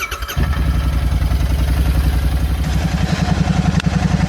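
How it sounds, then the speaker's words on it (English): A Royal Enfield Interceptor 650 parallel-twin fires up after its battery sat disconnected for days, catching after a brief crank and settling into a loud, close, steady thumping idle. "So the bike's fired up after a little more than a week"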